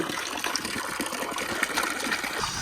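Water gushes steadily from a tap while winter blankets are washed at home, a close, continuous splashing rush with no voices.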